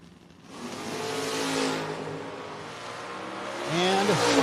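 Drag racing cars at a drag strip, including a Vega wagon and a 1971 Nova, roar loudly at the line, with a rising engine whine near the end; an announcer talks over it.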